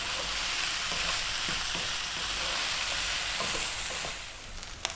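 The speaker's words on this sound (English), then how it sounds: "That crackle in there, the pop in, that's the rice frying, really important." Rice frying in a pan for Indian-style vegetable fried rice, a steady dense sizzle with scattered crackles and small pops throughout, loud and close, without talk.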